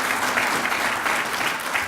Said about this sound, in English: Let's give a hand of applause to these great presenters here.